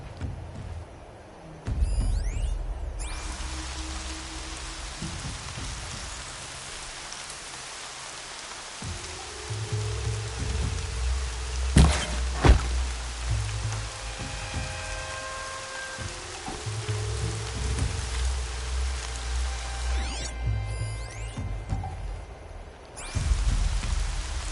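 Rain in Horizon Zero Dawn, a steady hiss of drops falling on surfaces throughout, with low music swells underneath and a brief sharp crack around the middle.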